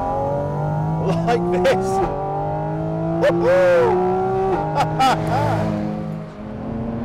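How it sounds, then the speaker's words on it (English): A Porsche 718 Cayman GT4 RS engine revs hard on the road, rising and falling through several sharp, high-pitched blips and sustained wails close up, with someone speaking briefly over it. "one of the best sounds I have ever heard in any car with any engine of any kind"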